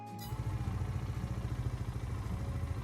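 Vehicle engine in Farming Simulator 22 cranking to life with a brief start, then settling into a steady, rhythmic chugging idle, fairly quiet and heard alone.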